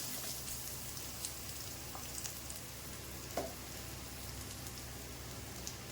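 Small onions, garlic cloves, sliced onion and green chillies sautéing in a pan for a white pumpkin sambar, giving a faint, even crackling sizzle with occasional soft ticks, with no talking.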